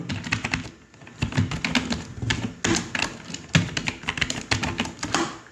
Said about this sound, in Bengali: এখানে আমি কন্ট্রোল-C কন্ট্রোল-V দিয়ে এন্টার, প্যাটার্ন দিলাম।